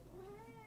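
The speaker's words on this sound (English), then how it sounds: "What's up with the cat in the background?" A house cat meows in the background, a single short rising-and-falling cry, faint and distant, with no talk over it.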